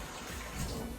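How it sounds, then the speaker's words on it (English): Cold tap water running over cooked spaghetti being rinsed, a short, soft, steady splashing stream heard alone. "I rinse it off with cold water"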